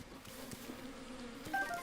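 Bees in the Breath of the Wild video game buzz continuously at close range as a steady droning hum, with a brief chime-like tone near the end.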